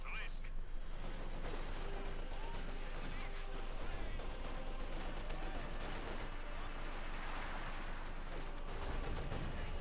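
Gunfire from the World War II strategy game Company of Heroes 2, in a fight between OKW and Soviet forces, crackles steadily through the whole stretch as a dense, continuous mix of shots and battle noise beneath ongoing commentary.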